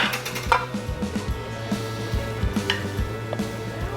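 Egg mixture is stirred into melted chocolate in a bowl, a spoon tapping and scraping the sides in a soft, fairly regular rhythm close by.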